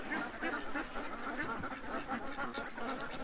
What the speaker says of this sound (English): you can't hear the cars anyways because the ducks are so loud